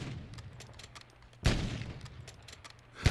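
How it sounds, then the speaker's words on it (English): Hip-fire gunshots from a weapon in a video game shooting range, sharp close reports, one prominent shot mid-way and another at the end, over a steady low background hum. "First hip fire."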